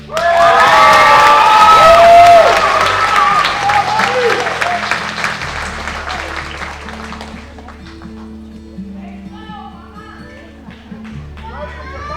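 Crowd at a college nursing pinning ceremony erupts into loud cheers, whoops and clapping for a graduate as a name is called, the burst peaking early then fading to scattered applause and murmured talk.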